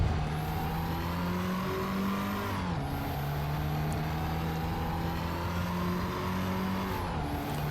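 Race car engine in Assetto Corsa EVO, a steady loud drone with harmonic pitch climbing through gears and a brief dip for a shift near the middle, no voices over it.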